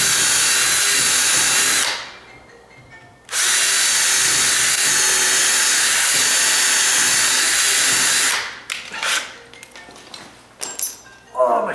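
A power drill with a 1/8 inch bit bores into a wooden door frame, angled into the stud: two loud, steady high-pitched whining runs with a short pause between, then fading handling clatter and clinks.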